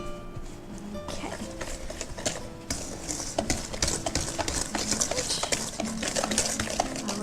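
Wet baking ingredients with vanilla being whisked in a bowl, quick irregular metallic clinks and scrapes against the bowl, close and steady.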